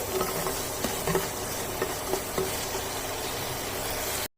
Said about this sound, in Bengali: এবার এগুলোকে খুব ভালো করে মিশিয়ে নিচ্ছি